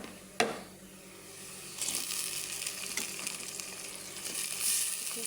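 Onions frying in a pan, browned until reddish, give a steady close sizzle with a sharp clink near the start, and the hiss grows slightly louder toward the end.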